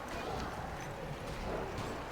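Galloping hooves of horse archers in the BFME 2 Age of the Ring strategy game, a soft continuous patter set within dense battle noise.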